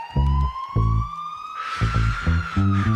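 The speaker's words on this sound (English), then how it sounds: "Distant police siren pitched down and echoing" A police siren pitched down into a low, slow wail, echoing over thumping rhythmic bass hits, with a burst of hissy noise midway.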